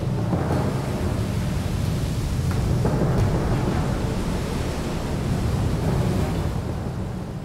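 Large surf waves break at Pipeline on Hawaii's North Shore, a loud continuous roar and wash of heavy water with rumbling low surges throughout.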